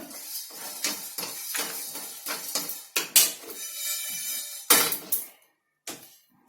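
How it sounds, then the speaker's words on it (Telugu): Coriander seeds roasting in a pan, a close series of sharp dry clinks and taps against the metal, irregular and fairly loud, ending in a brief silence with one last faint tap. "ఇది ఎర్రగా అవుతున్నాయి, చిటపట అంటున్నాయి కూడా."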